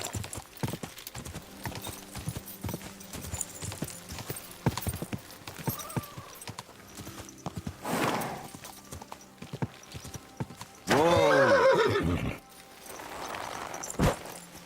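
In the video game Kingdom Come: Deliverance 2, hooves clop steadily at a walking pace, then a horse lets out a loud, drawn-out whinny before a few final hoofbeats.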